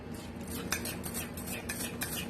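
A spoon stirs mug cake batter of butter, sugar, milk, vanilla and salt inside a mug, producing continuous close scraping and clinking against the ceramic with brief sharper taps.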